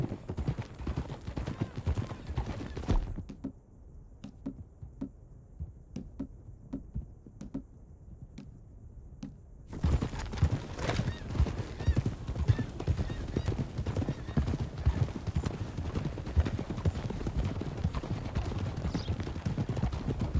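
Horses gallop in Red Dead Redemption 2, a steady close clip-clop of hooves that carries on throughout, with a brief neigh and a sudden shift in the surrounding ambience partway through.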